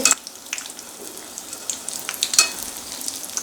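Curry leaves and asafoetida crackle in hot oil for a tempering, a continuous close sizzle with sharp pops and spits throughout.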